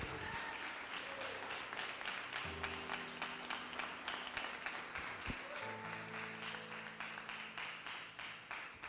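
A church congregation bursts into sustained applause, dense steady clapping filling the room while a keyboard holds soft chords underneath and a few voices call out.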